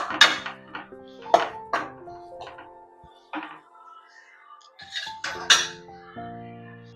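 Ugganni being stirred and mixed in a metal pot, close, with a series of clinks and scrapes of a spoon against the pot separated by short pauses.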